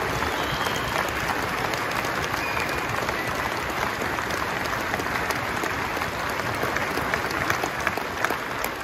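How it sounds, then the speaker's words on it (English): A crowd at a Welsh farmers' protest outside the Senedd in Cardiff Bay gives sustained applause, a dense steady wash of many hands clapping outdoors that holds evenly throughout. "can you give them all a round of applause"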